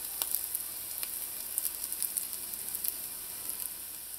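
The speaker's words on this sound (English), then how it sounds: "And then this goes into the hot oil." Potato cakes frying in hot oil over medium heat give a steady, fairly loud sizzle with scattered sharp pops and crackles, heard alone without talk.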